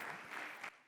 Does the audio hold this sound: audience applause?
yes